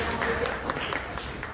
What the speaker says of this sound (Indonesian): Tepuk tangan dulu dong buat kalian semua yang hadir malam ini.